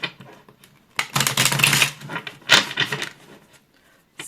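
Crisp riffling and slapping of tarot cards in a couple of quick bursts, close up, with short pauses between shuffles.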